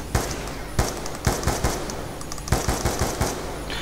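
Repeated sharp SMR rifle gunshots in the video game Buried, in quick bursts and single cracks, punchy and close, with a game-like mechanical texture and no talking.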